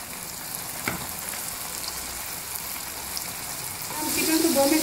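Chicken pieces dropped into very hot oil for KFC-style fried chicken, a steady close sizzle that swells louder and brighter near the end as the chicken goes in, with bubbling crackle.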